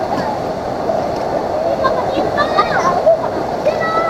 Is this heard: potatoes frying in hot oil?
no